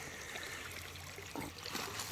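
Creek water flows and trickles around someone wading through a shallow West Virginia creek while gold prospecting, a soft continuous babble with a few faint splashy steps.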